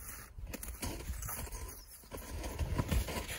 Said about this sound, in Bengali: এই থান্ডারের মতন সাউন্ডটা হচ্ছে আমরা যখন বরফের উপর দিয়ে জুতো পরে হাঁটছি তখন।